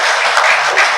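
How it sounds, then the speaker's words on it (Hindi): An audience claps loudly and continuously for a guest at a lecture, a dense, steady burst of applause with no talking over it. "ताली बजाइए इनके लिए जोर से।"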